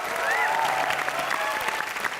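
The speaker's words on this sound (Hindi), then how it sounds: "एक बार जोरदार तालियां बजा दो इसके लिए।" A television studio audience applauds a guest on an entertainment talk show, dense clapping sustained at an even, fairly loud level throughout, with faint tonal sounds and a low hum mixed in beneath.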